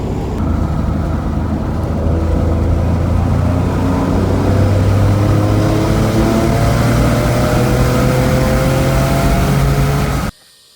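A turbocharged 3.7 liter V6 in a Ford Mustang revs loud and close, the engine note climbing steadily over about ten seconds before cutting off abruptly at the end.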